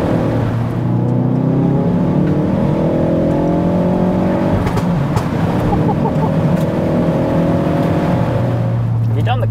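A 380 bhp Mk4 Ford Focus ST on a stock clutch with EBC Yellowstuff brakes pulls hard through the gears, its engine note climbing and dropping at each shift, loud and steady with voices talking underneath.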